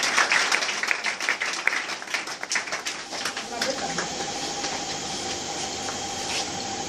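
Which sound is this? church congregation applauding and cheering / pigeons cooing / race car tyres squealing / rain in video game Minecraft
church congregation applauding and cheering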